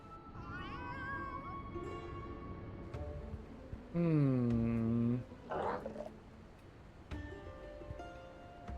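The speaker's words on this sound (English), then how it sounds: "Yeah, there's two kitties." Cats meowing in Final Fantasy XIV Heavensward, several distinct mews including one loud, drawn-out meow in the middle, over a soft game background with faint voices.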